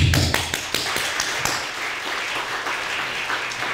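Applause at a Korean church celebration honoring the general assembly moderator: a few sharp early claps swell into steady crowd clapping, moderately loud and continuing to the end.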